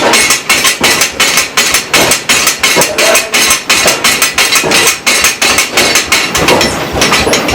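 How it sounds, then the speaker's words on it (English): A blacksmith's mechanical strip hammer in a gold mill pounds rapidly and steadily, loud repeated metallic blows in an even rhythm, continuing without pause. "Strip hammer was used by the blacksmith, so we didn't have to pound out everything by hand on the anvil."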